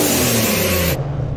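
A car engine roars past in a loud whoosh, the rushing noise cutting off abruptly near the end and leaving a lower rumble.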